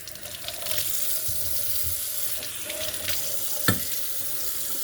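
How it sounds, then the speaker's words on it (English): Warm water running from a kitchen sink tap, a steady close hiss of flowing water that continues throughout with one brief clunk near the end. "So I'm going to get 1 1/4 cups of warm water out of my sink here."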